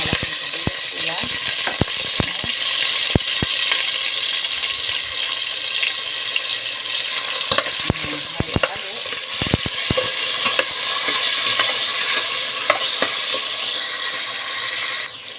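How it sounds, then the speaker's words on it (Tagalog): Red garlic and a large onion sautéing in oil for a simple beef kare-kare, a loud, steady sizzle with scattered sharp pops and clacks of stirring throughout. "igisa na po natin bawang pula. Ilagay na po natin yung ating sibuyas"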